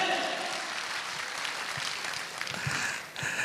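Brief applause from an audience at a leadership workshop gathering, a fairly loud burst of clapping that dips near the end and picks up again, with some voices mixed in.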